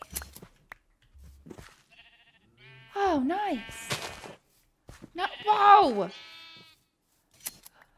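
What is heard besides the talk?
sheep bleating in the video game Minecraft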